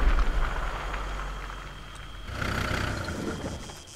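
A truck engine in the video game Arma 3 runs at idle, a low steady rumble that swells slightly midway before fading, with no talk over it.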